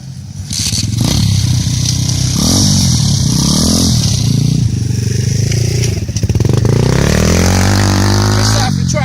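A pit bike engine revs loud and close during a race, rising and falling through repeated throttle bursts with a buzzing, raspy tone and brief rattles.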